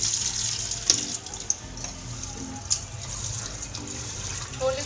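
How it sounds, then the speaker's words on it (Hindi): Tap water runs steadily into a sink as chickpeas are rinsed for chole, a close continuous hiss with occasional clinks and splashes from the vessel. "छोले को धो लेंगे और फिर उबालने के लिए चढ़ा देंगे।"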